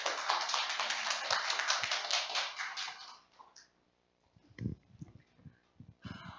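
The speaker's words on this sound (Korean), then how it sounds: "박수로 환영해 주시기 바랍니다" Audience claps to welcome a lecturer at a public talk, a dense burst of applause for about three seconds that thins out, then a few scattered knocks and handling sounds in a quiet room.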